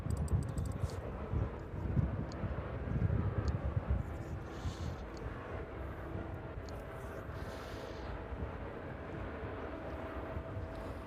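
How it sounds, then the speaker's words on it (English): A West Atlantic Boeing 737-400 descends toward East Midlands Airport in the evening. Its engines make a distant, steady low rumble that is louder at first and then settles into a softer drone. "So that West Atlantic 737-400 making its way down towards East Midlands now."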